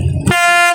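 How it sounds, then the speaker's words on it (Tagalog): A Montenegro Shipping Lines ferry, the Rina Divina Gracia, gives one long, loud steady horn blast as it pulls away from port with its ramp raised, preceded by a brief low rumble. "lakas ng busina"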